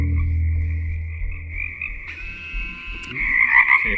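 Deep resonant bullfrog croaks pulse steadily near a rainforest pond bank, loud and close, while a higher insect-like whine runs above them and shifts partway through.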